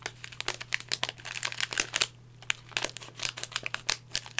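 A foil tea packet is torn open: thin foil crinkles and tears in a rapid run of sharp rustles, close and fairly quiet, with no talking.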